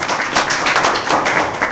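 Dense applause from a crowd at a political party gathering, a steady continuous wash of many hands clapping throughout, fairly loud and without any clear talk over it.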